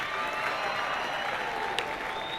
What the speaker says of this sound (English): Can we give Abo Tintswalo just one more round of applause